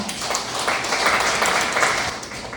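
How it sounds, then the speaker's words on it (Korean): Steady applause from an audience fills the room, a dense wash of clapping that swells slightly and continues throughout. "큰 박수로 작가님을 환영해 주시기 바랍니다"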